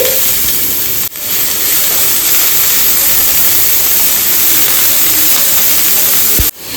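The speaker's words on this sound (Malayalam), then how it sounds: "ഇനി നമുക്ക് ഇതിലേക്ക് ഒരു മീഡിയം സൈസ് സവാള ചോപ്പ് ചെയ്തത് ഞാൻ ഇട്ട് കൊടുക്കുന്നുണ്ട്." A medium chopped onion sizzles in hot coconut oil in a pan, a steady loud hissing crackle that runs throughout with two brief dips, and no voices.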